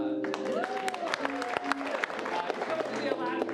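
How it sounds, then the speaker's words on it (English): Audience applause fills a theater during an improv comedy show, a dense burst of clapping with scattered whoops rising over a lingering voice and music. "Applause."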